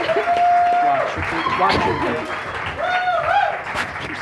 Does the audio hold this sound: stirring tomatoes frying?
no